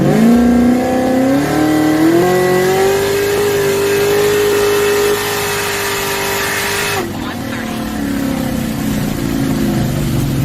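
A sports car engine revs up with rising pitch, then drops sharply in a short shift from second to third gear, continuing steady and loud, with talking over it.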